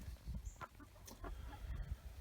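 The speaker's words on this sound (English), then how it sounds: "we've got a hen in the nesting box right now" A hen in a backyard chicken coop nesting box clucks softly in a scattered series of low, short clucks, faint and close amid quiet rustling and a few small knocks.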